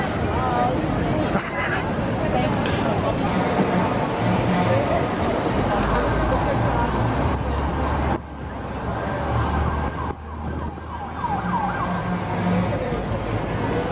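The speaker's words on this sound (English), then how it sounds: "Standing in Times Square watching pigeons and skateboarders, bicyclists, the ambulance, and all the people go by." Loud, steady street bustle in Times Square, New York, with a dense crowd, pigeons cooing and an ambulance siren wailing through the traffic noise, voices mixed in throughout.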